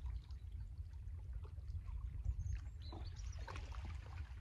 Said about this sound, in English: The rippling of the water.